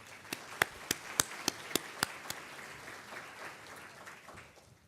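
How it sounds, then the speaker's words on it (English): Scattered claps from an audience at the opening session of a hospital association conference: a handful of sharp, separate hand claps in the first two seconds, then a thinner patter fading out, fairly faint and sparse. "Let's give them a round of applause."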